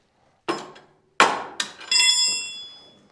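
A hammer whacks a spring-loaded car part on the Healey, three or four sharp metallic blows, the last ringing with a bright clanging resonance, close and loud in a quiet shop.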